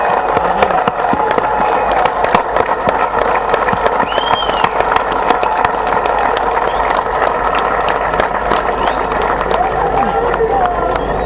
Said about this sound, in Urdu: بلکہ میں خود بھی تالیاں بجاؤں گا بھائی ڈاکٹر صاحب کے لیے۔